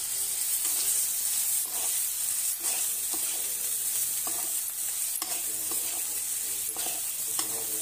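Sliced potatoes stirred into a sizzling spice masala in a pan for aloo palak, with a steady frying hiss and intermittent scraping stirs close by, no talking.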